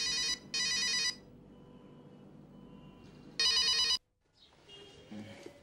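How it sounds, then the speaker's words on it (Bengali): A landline-style telephone bell rings in three loud, clear bursts, each close and sharp, separated by short pauses, followed by quiet room noise and a faint rustle. "ঠিক তখনই যেন বেজে উঠল ফোনটা"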